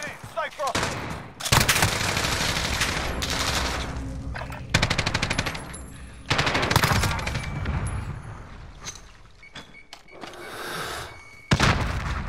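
Rapid automatic gunfire with decapitating rounds in Call of Duty: Modern Warfare, loud bursts and fusillades repeating across the clip with brief pauses between them, plus occasional heavy thunks.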